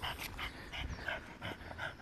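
A dog pants in quick rhythmic bursts, roughly six breathy puffs over two seconds, close and moderately quiet, after finding another dog.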